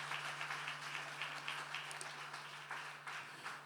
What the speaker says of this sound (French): J'aimerais un applaudissement à tous les bisous que vous avez reçus.